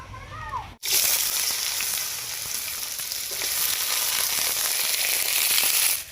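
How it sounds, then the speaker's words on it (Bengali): Bitter gourd frying in a generous amount of hot mustard oil in a wok, a loud, steady crackling sizzle that bursts in abruptly and holds close, with faint stirring clatter underneath. "উচ্ছাটাকে ভালো করে লাল করে আমরা ভেজে নেবো"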